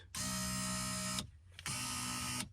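An electric power seat motor in a 2007 Ram 2500 truck whirs steadily for about a second, stops briefly, then runs again for another second, close and buzzing.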